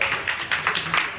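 A small group clapping hands at a birthday gathering with disabled students, a few loose, uneven claps in quick bursts, near and moderately loud.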